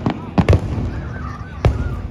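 Canada Day fireworks at Canada's Wonderland go off as a few sharp, distant booms, heard from a spot partly screened by trees, with crowd murmur and a voice in between.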